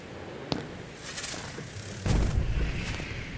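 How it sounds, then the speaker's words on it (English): Fireworks explode in the horror video game Crimson Snow (2023): a sharp crack, then a louder deep boom with crackling bursts trailing off, set against a constant background hiss. "Oh, fireworks. Yay,"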